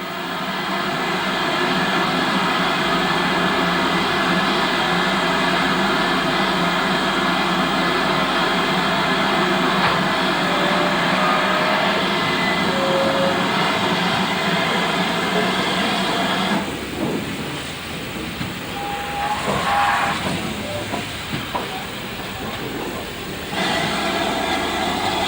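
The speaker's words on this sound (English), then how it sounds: "the tank loco draws towards the buffer stops in order to run round its train" Steam tank locomotive 4277 of the North Yorkshire Moors Railway drawing towards the buffer stops to run round its train, a steady, fairly loud rumble of wheels and engine that eases and thins partway through.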